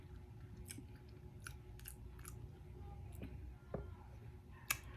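Soft, moist chewing of cream cheese bread close to the mic, a few quiet bites and smacks spread over several seconds in a still room.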